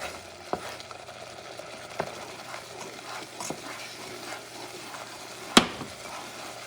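Churrasco ingredients sizzle quietly in a frying pan as a utensil stirs them, with a few sharp taps and scrapes against the pan and one louder clack near the end.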